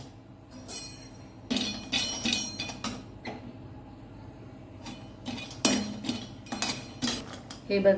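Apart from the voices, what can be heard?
cashews and almonds roasting in ghee in a kadhai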